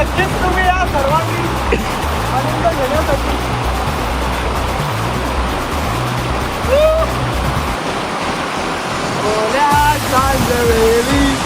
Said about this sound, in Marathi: त्या डोंगराच्या पायथ्याशीच लगतच तुम्हाला पाहायला मिळतोय गोगाटा धबधबा